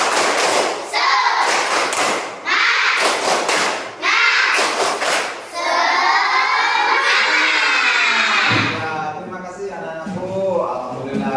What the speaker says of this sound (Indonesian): Coba sekarang semuanya berdiri. Kelihatan berapa kesemangatan kalian. Tepuk semangat.